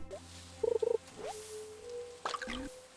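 A frog croaks in the farming video game Stardew Valley: two quick, pulsing croaks close together, set among soft game chimes and a sustained tone.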